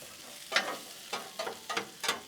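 Potatoes with seasoning and spread being tossed with a spatula on a Blackstone griddle, giving a string of short scraping, stirring strokes over a soft, low sizzle, close and fairly quiet with no one speaking.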